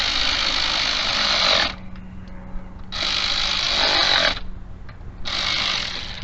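A power tool bolts a part down, running in three loud, sustained whirring bursts separated by short pauses, close by with no talking.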